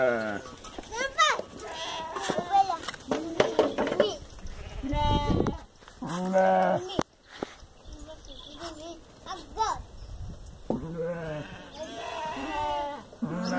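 Sheep bleat repeatedly at close range on a farm during vaccination, the calls overlapping with people talking nearby and handling noise in between.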